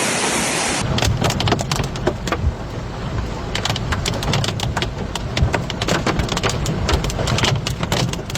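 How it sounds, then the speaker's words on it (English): Very violent downpour during a storm in northern Germany or Poland, a dense steady roar of heavy rain with close splattering hits throughout and no voices. "very violent downpour"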